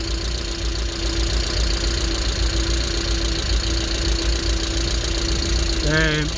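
A Vauxhall Astra GSi engine with a bad oil leak idles roughly and unevenly close by, a loud continuous uneven thrum with a brief whine near the end.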